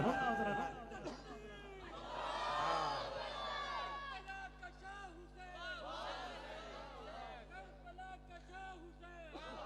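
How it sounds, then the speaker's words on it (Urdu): A crowd at a religious naat gathering shouting a slogan back in unison, rising and falling waves of many voices with cheering over nearly ten seconds, fairly distant and muffled under a steady low hum. "ہن ذرا نعرہ لاؤ تے ہاتھ چک کے ذرا سینے دا زور لا کے نعرے دا جواب دینا جی"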